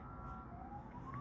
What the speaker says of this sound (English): That's just a siren.